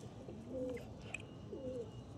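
Pigeons kept for sale coo softly in two separate low, throaty phrases, with quiet room noise between the calls.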